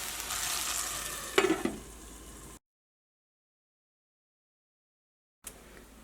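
Egg frying with grated coconut in a pan, a steady sizzle with stirring scrapes and a brief louder clatter, then a gap of silence before the sizzle returns faintly.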